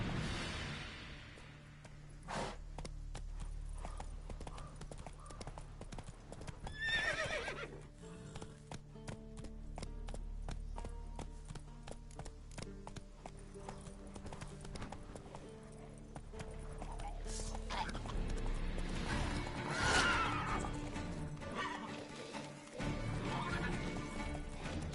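Roach the horse from The Witcher 3 gallops with a sustained run of hoofbeats, whinnies and snorts mixed in, along with a crash and some voices speaking over the riding.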